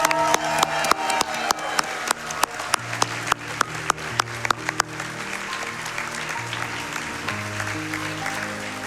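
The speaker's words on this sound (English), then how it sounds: "Let's get one more round of applause for them." Applause for speedrunners at a Kingdom Hearts Birth by Sleep Final Mix HD run: sharp, scattered claps ring out over a background music track, most prominent early on before settling back into the steady music.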